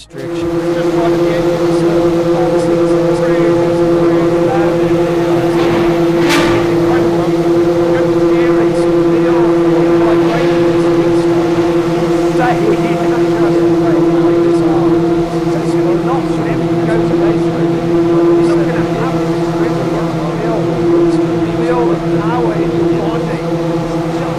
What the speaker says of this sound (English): I heard the unmistakable noise of some Paganis starting up